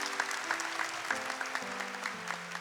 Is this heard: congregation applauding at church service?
yes